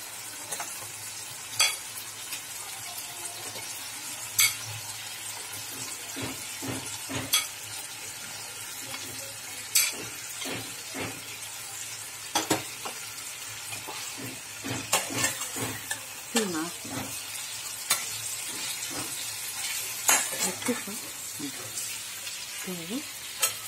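Boiled chicken frying in a pan for a Bengali chicken and potato curry: a continuous sizzle with frequent sharp stirring clatters and scrapes throughout, no voice over it.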